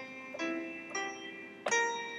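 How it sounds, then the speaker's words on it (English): A dominant seventh chord struck three times in succession, each attack ringing into a sustained harmonic tone, the final strike loudest; quiet and clean, with no voice. "The dominant seventh chord sounds like this."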